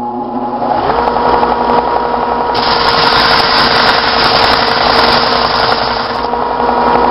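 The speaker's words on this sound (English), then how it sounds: "that allows me to hold the blade on the belt sander without my fingers getting in the way" A belt sander grinds a knife blade with a loud continuous abrasive whir, the pitch and hiss intensifying as steel presses against the belt, close and steady throughout.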